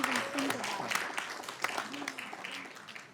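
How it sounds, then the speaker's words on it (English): Applause fills a city council meeting in Sacramento, a dense, moderately distant clatter of many hands that carries on throughout, with voices speaking over it. "Another big round of applause for our new director of YPC."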